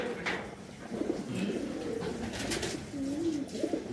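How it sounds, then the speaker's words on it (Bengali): Giribaz high-flyer pigeons in a loft give clear, rolling low coos in repeated phrases, close and steady with little talk over them. "এটি সব ভাই আমার লাইনের কবুতর,"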